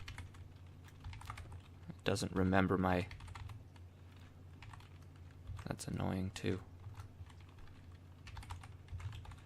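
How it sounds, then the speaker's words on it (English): Slow, scattered keystrokes on a Windows 10 computer keyboard click softly near a large Yeti microphone, while a person speaks in two short bursts over the tapping. "I'm typing really slowly"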